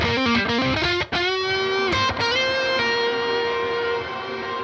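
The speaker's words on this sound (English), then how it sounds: "So I made up a new chunky sound and kind of, you know, Mesa Boogie-esque tones in the Axe effects just to get me by." A chunky, Mesa Boogie-style high-gain electric guitar tone from an Axe-Fx modeler rings out: a few quick distorted chord stabs, then two sustained chords that ring out and slowly fade. The tone is loud and close, with no voices.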